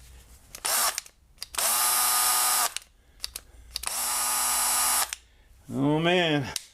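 A cordless drill drives a left-hand thread screw into an old drill chuck, three long steady whirring runs separated by pauses, the last burst slowing and dropping in pitch as the battery runs down.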